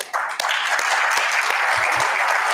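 An audience applauds the Belgian Prime Minister at a Jewish community event, a dense, steady burst of clapping that starts abruptly and holds at full strength.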